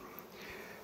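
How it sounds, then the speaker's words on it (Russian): Carniolan honey bees buzz at a home apiary, a faint, continuous droning hum with no other sounds. "Но вы видите, это моя пчелка Корнеола"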